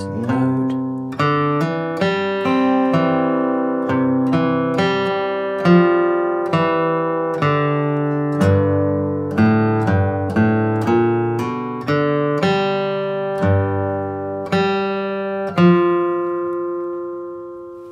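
An acoustic guitar crosspicks Red River Valley in a country and bluegrass style, bass notes and melody plucked in a steady, bright flow of ringing single notes, close and clean with no speech.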